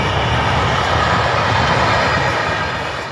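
A train rolls past close beside a paddy field where rice is being harvested, a loud steady broadband rumble with wheel noise that holds for the whole stretch and eases slightly at the end.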